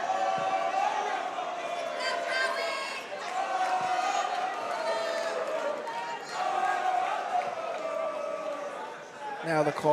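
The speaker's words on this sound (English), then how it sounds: "Now the Caldwell crowd trying to back Latimer here" Caldwell home crowd cheering on a wrestler during a varsity boys dual meet in a gym, sustained voices and shouts filling the space with mat thuds, a commentator talking over it.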